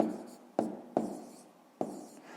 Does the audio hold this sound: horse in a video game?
no